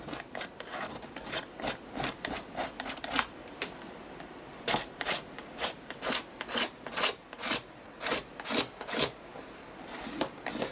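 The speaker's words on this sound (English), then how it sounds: "I've now got a scraper, a spatula, and I'm going to scrape some of that paint down" Paint being scraped down across a surface with a metal scraper and spatula, a series of short rasping strokes that speed into a quick rhythmic run, close and moderately loud, with no talking.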